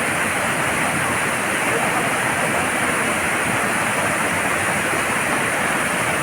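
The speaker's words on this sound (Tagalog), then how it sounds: "Ayan, aliwagwag falls." Aliwagwag Falls in Cateel, Davao Oriental, rushes in a steady, dense roar of falling water that stays loud and unbroken throughout.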